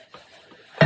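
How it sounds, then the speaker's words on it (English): A frying pan clatters as it is picked up and set down on a cooker, a sharp metallic knock near the end after quiet handling sounds, heard up close with no talk. "Right, frying pan."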